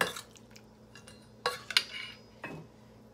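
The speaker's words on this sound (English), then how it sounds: "and just mix that around so it all is covered in it" Utensils scrape and clink against a bowl while food is tossed in flour to coat it, a few sharp knocks standing out over soft stirring rustle, close and fairly quiet.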